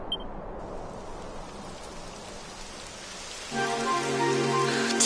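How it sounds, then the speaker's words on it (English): Rain begins falling in a video game, a steady broadband patter that swells louder partway through, with a low engine-like hum entering alongside it. "It would have to go and start raining, wouldn't it?"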